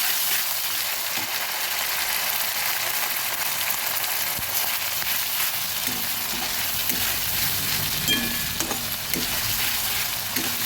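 Ginger and crushed garlic fry in a pot for a chicken and potato curry, giving a steady, loud, hissing sizzle throughout, with occasional faint scrapes as they are stirred.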